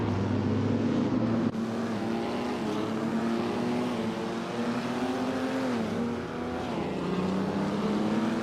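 Race cars roaring around Road America in a racing video game, a 1963 Lancia Fulvia Spider among them, with continuous layered engine drones that shift pitch as they accelerate, loud and steady throughout.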